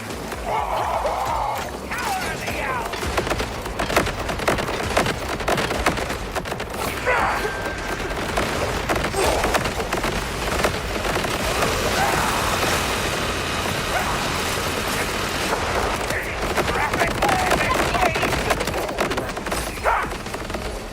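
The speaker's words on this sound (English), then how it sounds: "I am supposed to shoot at pistols." Dense rapid video game gunfire fills the scene, a steady loud barrage of pistol shots and booms sustained throughout with a voice talking underneath.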